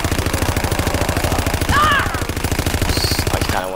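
Rapid automatic fire from the GDB 79 AR assault rifle in a WWII shooter, a steady, fast-pulsing stream of close shots lasting nearly four seconds, with brief higher tones over it near the end.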